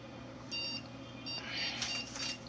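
A desktop computer powering on gives a few faint, thin electronic beeps over a low steady hum of fans.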